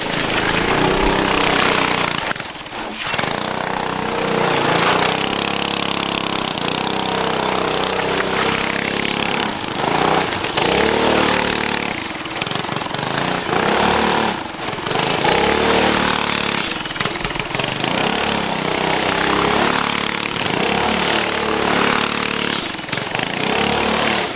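Small go-kart engine running steadily through a test drive with a kart expert at the wheel, loud and continuous with rising and falling revs and brief dips, no talk over it.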